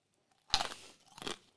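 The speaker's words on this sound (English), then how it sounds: "The crunching says it all" Someone bites and chews something crunchy: two sharp, close crunches about half a second apart, each trailing into brief rustling grinding, with no talking.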